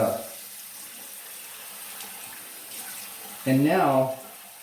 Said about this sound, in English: So I'm gonna rinse my head